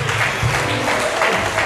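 A church congregation applauding to acclaim Jesus during a testimony service, a steady, dense round of close clapping with no break.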